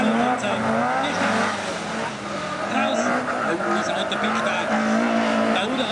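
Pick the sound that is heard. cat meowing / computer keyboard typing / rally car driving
rally car driving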